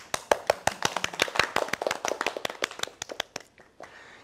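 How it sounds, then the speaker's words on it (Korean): A small group claps for a few seconds, quick uneven hand claps close by that thin out and stop. "박수."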